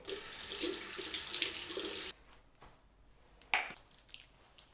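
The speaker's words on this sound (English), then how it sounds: "I like to use warm water when I'm washing my face." Warm water runs steadily from a bathroom tap during a morning face wash for about two seconds, then stops, leaving quiet handling sounds and a sharp splash or tap near the end.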